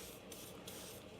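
Anti-spatter spray from an aerosol can misted onto a welding setup on a shop-made welding rotator, a few soft, close hissing bursts with brief pauses between them.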